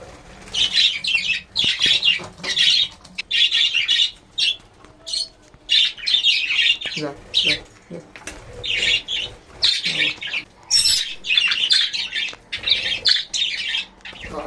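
A yellow pair of caged pet birds chirp and squawk in dense, near, busy bursts with brief pauses, continuous throughout with no talking.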